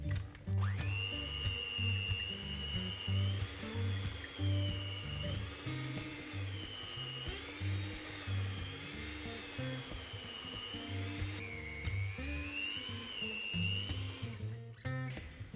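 An electric hand mixer kneads pan brioche dough for a savoury Christmas wreath, its motor whining at a steady high pitch that dips and rises as the dough drags on the beaters. The motor runs continuously, close and fairly loud, before stopping near the end.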